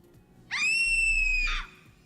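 A person lets out a single loud, sustained scream lasting about a second, sharp and high-pitched, rising at the start and fading at the end, against a quiet background.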